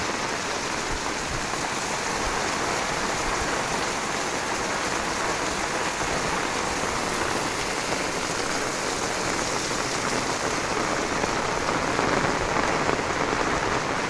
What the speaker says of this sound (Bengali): সারা রাত ধরে বৃষ্টি হচ্ছে, খুবই চমৎকার বৃষ্টি